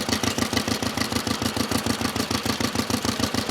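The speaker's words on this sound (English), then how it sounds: "It's a 6 horsepower twin cylinder Fastener engine." A 6 horsepower twin-cylinder Fastener vintage engine at a rally runs steadily, giving a fast, even chuffing pulse that sounds close and loud throughout.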